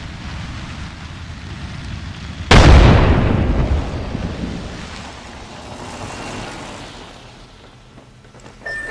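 Frag grenade blast in the game Apex Legends: a sudden loud detonation midway, followed by a long rushing, crackling decay that slowly fades, over steady low background noise.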